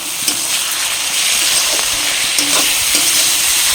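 Onions frying and being stirred in a pan with ginger-garlic paste and salt on low flame for a Bihari chicken curry, a steady close sizzle with a few scraping stirs of the spoon throughout.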